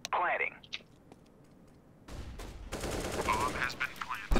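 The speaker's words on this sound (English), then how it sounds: "Just a shotgun." CS:GO shotgun fire: a burst of sharp gunshots opens, then after a quiet gap a dense, loud volley of rapid shots and clatter rolls on for the last couple of seconds, close and harsh.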